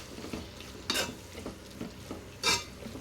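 A broad bean and green chilli curry stirred with salt in a pan, a spoon scraping and knocking against the metal in several strokes, with two louder scrapes over a soft steady sizzle underneath.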